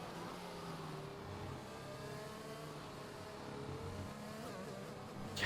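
A Formula 1 car in an Xbox F1 racing game at the Mexico circuit drives through a run of esses, its engine droning steadily at mid loudness with shifting pitch and a slight rise at the end.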